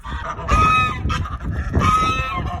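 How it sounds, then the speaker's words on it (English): Loud, close chicken calls in bursts at a self-serve egg stand, honking and squawking fowl voices repeating several times with brief gaps. "I'm being harassed by chickens."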